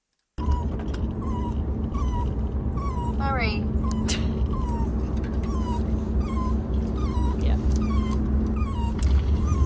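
A dog whines and whimpers inside a moving car, with repeated high, wavering cries and short yips over a steady low engine rumble; a person briefly speaks once.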